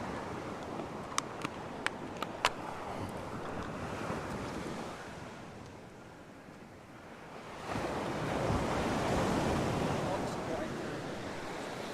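Ocean surf washes in at Dundowran Beach, a broad, rushing roar mixed with wind noise that swells and recedes, growing louder as a wave breaks near the end, with a few sharp clicks early on.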